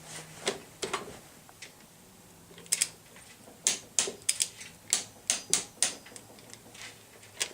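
A torque wrench clicks repeatedly on a bike or trike fastener, giving a quick series of sharp, close mechanical clicks in uneven bursts, fairly crisp against a quiet background with no talking.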